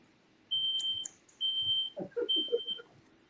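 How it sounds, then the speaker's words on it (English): A home smoke alarm sounds in three piercing high-pitched beeps with short gaps, while faint clatter and movement are heard nearby in between. "the smoke alarm went off"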